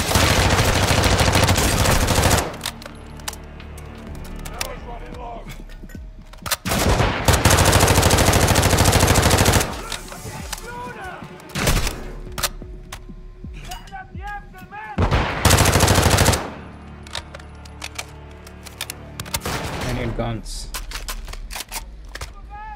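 Bursts of machine gun fire in the Call of Duty Modern Warfare 2 campaign come in several loud rapid volleys separated by quieter stretches, with radio chatter and voices between the bursts.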